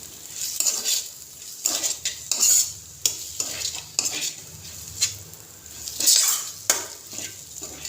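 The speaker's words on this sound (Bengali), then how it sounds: "আলুর সাথে পনিরটা ভালোভাবে মিশিয়ে নিচ্ছি।" Paneer being mixed into mashed potato in a pan, close rhythmic scraping and stirring of a spoon against metal with soft sizzling and occasional clinks, no voices.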